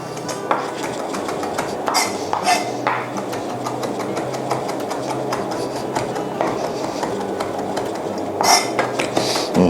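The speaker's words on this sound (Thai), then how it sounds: "เดี๋ยวผมจะ ช็อปมันเลย สับมันให้ละเอียดเลยครับ" A knife chops fresh rosemary finely on a board for a pork chop marinade, making rapid, irregular clicking taps and scrapes up close, with a few louder knocks near the end.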